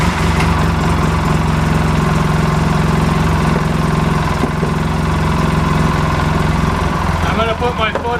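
A Polaris RZR 800 side-by-side engine, after belt and clutch work, runs at a steady loud idle throughout, with a rough low rumble and vibration and a slight change near the end.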